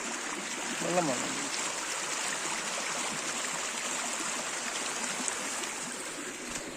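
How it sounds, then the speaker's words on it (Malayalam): Water flowing steadily along a small canal outdoors, a soft continuous rushing trickle throughout, fairly quiet, with a faint brief voice-like sound near the start. "നമ്മുടെ ഫ്രണ്ടിൽ കൂടെ ഇങ്ങനെ ഒഴുകുന്നു"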